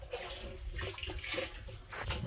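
Water is fetched and splashes at an off-grid homestead, with irregular sloshing and pouring bursts, moderately close and uneven, alone without talk.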